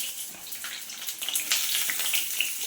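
Potatoes dropped into hot cooking oil, a bright crackling sizzle that swells as the pieces hit, with sputtering bursts continuing steadily close by.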